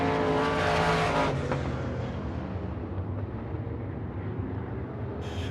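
IMCA race cars roaring around a dirt oval at Cocopah Speedway during the Winter Nationals, a loud pack passing near and then fading into distant engine drone with no talk.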